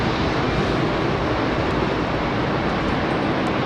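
A British Airways Boeing 777-200 jet departs Heathrow runway 27R, a steady loud broadband engine roar that holds constant throughout without a break.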